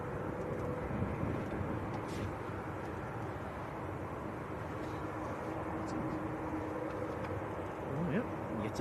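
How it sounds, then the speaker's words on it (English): A heavy TUI Dreamliner departs Manchester Airport, its jet engines a steady broad roar heard from a distance, with people talking faintly over the noise. "Another heavy coming out, TUI Dreamliner."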